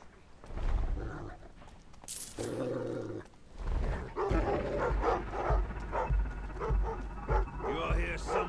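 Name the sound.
dogs barking in the video game Thief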